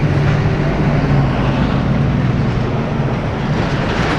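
Toyota 1UZ V8 engine swapped into a Nissan 240SX, breathing through catalytic converters and a Spec D exhaust, holds a steady, loud, deep rumble with a dense low-end drone that barely changes over the whole stretch.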